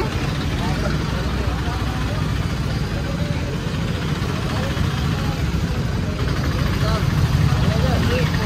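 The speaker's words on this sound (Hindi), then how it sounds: "ये ट्रैक्टर बड़े आ रहे" Big tractors roll through a crowded market, their engines a constant low rumble and drone close by, under people talking.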